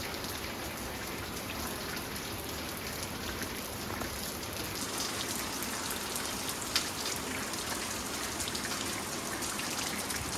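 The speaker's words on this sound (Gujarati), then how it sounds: "જેવો વરસાદ ચાલુ થયો 6:30 થયા સાંજના, પણ ધીમી ધારે હાવ છે." Light evening rain falls steadily on surfaces, a soft, even patter and hiss that continues throughout with a faint tone early on and no voices.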